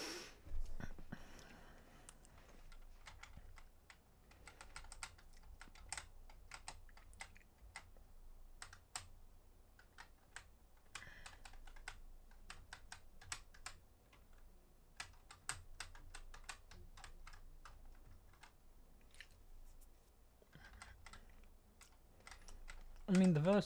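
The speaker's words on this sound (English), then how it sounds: "I'm sorry about you being able to hear me click my buttons" A computer keyboard with raised keys clicks in rapid irregular bursts of typing, close and fairly soft, continuing for over twenty seconds with faint breathing between.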